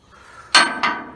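An old hammer, busted screwdrivers and a worn, broken chisel clink together as they are handled: two sharp metallic knocks in quick succession, close and loud, each ringing briefly before fading.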